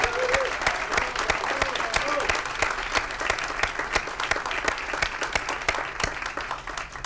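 Rousing applause from a standing audience at a climate journalism event, loud continuous clapping with a few whoops and voices mixed in throughout.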